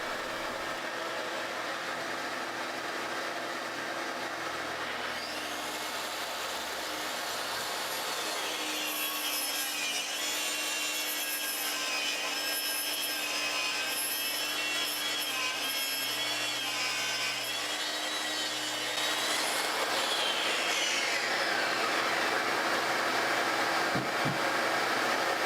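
A track saw slices a long, accurate cut through a maple board, its steady loud whine and rasping blade noise running unbroken from start to finish with no talk.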